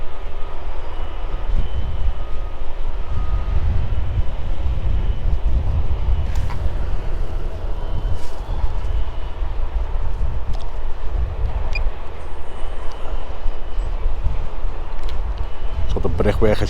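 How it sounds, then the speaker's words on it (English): Steady construction site noise from the Anfield Road stand expansion at Liverpool F.C.'s stadium, where a crane works on the pitch: a continuous low rumble of machinery with wind buffeting, plus a few faint knocks and clanks. "You see there's lots going on site now, you can hear the noise."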